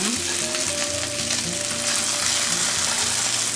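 Battered pollock jeon fries in a pan over low heat, with a loud, steady sizzle and crackle throughout and a faint tonal hum underneath.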